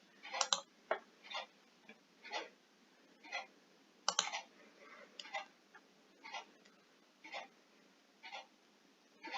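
Computer mouse clicks while opening WhatsApp on a laptop, a series of sharp, close, evenly spaced clicks, about a dozen over several seconds, with quiet gaps between and no talking.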